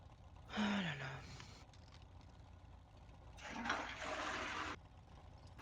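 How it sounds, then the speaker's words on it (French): Household toilet flushing nearby, two quiet rushing bursts of water a few seconds apart, with faint voices in the background. "c'est pour que vous entendiez tous ma chasse d'eau"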